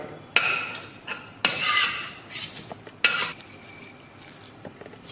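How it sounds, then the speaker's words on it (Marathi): A metal spatula scrapes and knocks against a pan while fenugreek seeds are stirred and roasted dry, giving several sharp clatters and scraping strokes at irregular intervals, close by with no talking. "मेथ्याची बघा नुसतं असं घातल्या मी आणि परतून घेतल्या नुसत्या"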